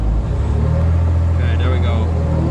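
A Mercedes-Benz car being driven around the Monza Formula One circuit during the Mille Miglia 2018, a loud steady engine drone and road rumble heard from inside the cabin, with people talking over it.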